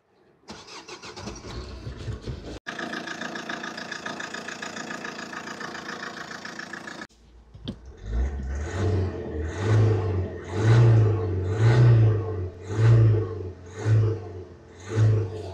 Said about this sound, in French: Donc vous voyez que le moteur est en assez bon état.